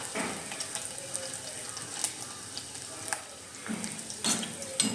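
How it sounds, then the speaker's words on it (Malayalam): Chopped garlic and ginger being stirred in a pan for a moru curry: soft sizzling with scattered scraping spoon strokes and a few sharper clinks, fairly close and steady. "എന്നിട്ട് ചെറുതായിട്ടൊന്ന് ഇളക്കി കൊടുക്കുക."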